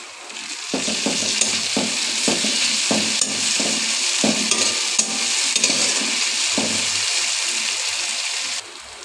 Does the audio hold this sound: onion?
yes